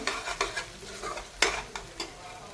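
Paneer masala being lightly sautéed in a pan gives a soft sizzle, with a spoon stirring and scraping in a loose rhythm of repeated strokes and one sharper scrape near the middle, close and fairly quiet, with no voices.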